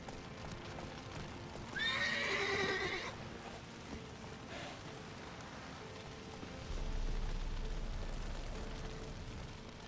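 Roach, a horse in The Witcher video game, whinnies and snorts near the start, then hoofbeats and saddle movement run on steadily under soft ambient wind, with a heavier rumble near the end.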